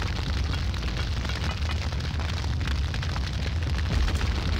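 A dense, sustained roar of fiery, crackling rumble fills the scene in Return to Castle Wolfenstein, steady and fairly loud, with no voices.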